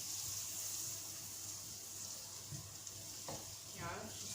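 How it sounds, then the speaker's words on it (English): Butter melts in a frying pan, making a quiet, steady sizzle with a few faint scrapes and clinks near the end and no talking. "Wait for the butter to get melt."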